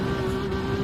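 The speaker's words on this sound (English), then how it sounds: "hit the rev limiter" Steady buzzing engine drone from a race car in Gran Turismo 7, held at a constant high pitch against the rev limiter, continuous and loud for a brief moment.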